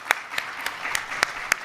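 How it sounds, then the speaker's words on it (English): Sparse audience applause at a conference kickoff, a handful of distinct claps spaced about a third of a second apart, fairly quiet with a light room murmur beneath. "So another round of applause for him."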